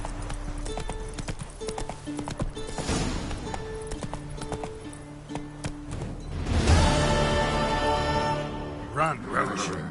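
Hooves of Geralt's horse Roach in The Witcher III, a rapid rhythmic clip-clop of galloping on ground that grows louder partway through, with game music and voices speaking over it.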